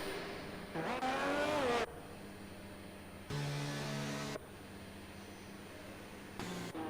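Formula 3 race cars head out onto a track in Italy, with engines droning and revving as they pass at moderate distance, separated by quieter stretches of steady background noise.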